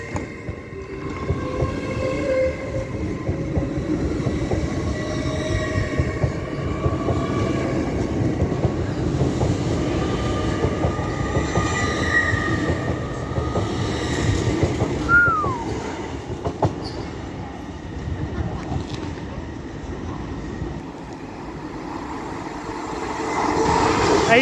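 A train from Edinburgh Waverley to London King's Cross passes on the East Coast Main Line at Doncaster, a long steady rumble with wheel clatter and a brief squeal partway through, near and loud for over twenty seconds.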